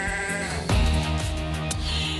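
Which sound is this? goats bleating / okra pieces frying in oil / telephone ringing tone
goats bleating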